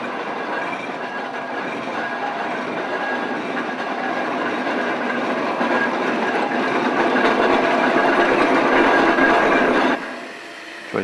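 Steam roller towing a living van and Land Rover in a funeral procession rolls past with a continuous rattling, clanking mechanical roar, steady and fairly loud for about ten seconds before dropping away sharply.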